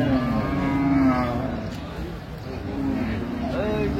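A dairy cow lows with a long drawn-out moo at a busy cattle market for cows and calves at Ambari Haat in Dinajpur, while people talk nearby.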